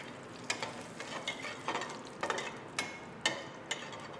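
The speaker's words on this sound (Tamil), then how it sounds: "ஆயில் ஊற்றிட்டோம். கடுகு, வரமிளகாய் நல்லா வந்து கிள்ளி போட்டுக்கலாம்." Mustard seeds and curry leaves sizzle and crackle in hot oil in a pan, with scattered sharp pops over a steady soft frying hiss, close and fairly quiet.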